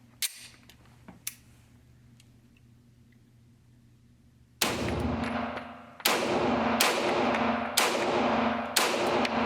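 Pistol shots at a shooting range, either a SIG P226 or a Beretta M9: two faint early reports, then five loud, sharp cracks fired in a steady sequence, each with a ringing decay.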